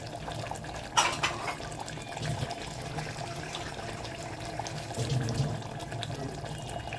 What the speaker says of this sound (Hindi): पानी डाल देंगे। गोश्त गलाना है हमको।